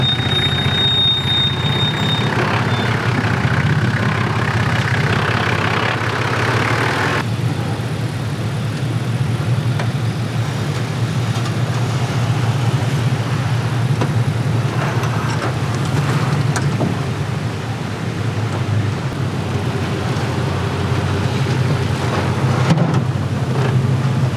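Big red four-wheel-drive truck crawling along the rough Old Telegraph Track at Cape York, a steady low engine drone with wind noise that holds throughout, no talk.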